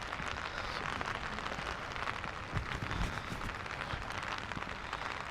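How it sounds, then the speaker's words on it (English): Steady rain falls around a hot-spring area at Jozankei, a dense, even patter of drops that stays faint and continuous throughout. "Hopefully the rain will have also subdued a little bit."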